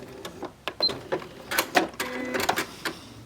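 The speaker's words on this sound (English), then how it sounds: "Now when you're sewing this, back stitch just a little bit to hold that in place" A sewing machine back stitches quilt binding in short irregular bursts of clattering needle strokes, close and moderately loud, with small mechanical clicks between runs.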